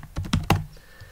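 A password is typed on a computer keyboard: a short run of four or five close, crisp keystrokes, then quiet.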